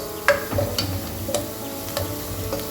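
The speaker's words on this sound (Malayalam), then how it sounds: "ഇഞ്ചി ഇടുമ്പോൾ വെളുത്തുള്ളിയും കൂടി നമുക്ക് ചെറുതായിട്ട് മുറിച്ചിട്ട് കൊടുത്തിട്ട് ഇതുപോലെ ഫ്രൈ ആക്കാം" Ginger and garlic fry in a pan for chana curry, a steady soft sizzle with a few light clicks of a stirring spoon against the metal, close and without speech.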